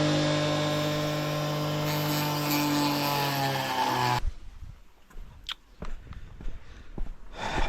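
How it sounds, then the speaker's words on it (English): A Dremel rotary tool cutting dashboard trim in a Fiat Doblo 1.6 MultiJet gives a steady, close, high-pitched whine for about four seconds, then stops abruptly, followed by scattered clicks and handling taps. "I'm going to do it with a Dremel, I think"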